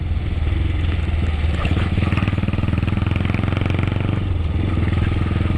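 A motorcycle engine runs steadily and loudly up close, its rapid throbbing rhythm continuous throughout with some mechanical clatter.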